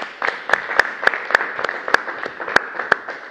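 Scattered hand claps from a small audience at a Danish cultural festival panel on books and cultural policy, about a dozen crisp claps spread unevenly over a few seconds at moderate volume.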